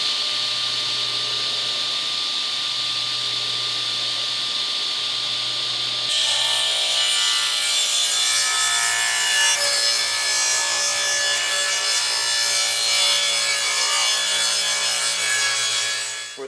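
A table saw hums at idle, then its blade bites into a deck skirting board cutting a rabbet, the loud sustained rasp of the cut running to the end before the motor winds down.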